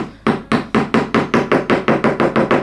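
Eleven sharp, evenly spaced hammer taps drive in small push pins close by, each a bright knock with a short decay, in a steady quick rhythm.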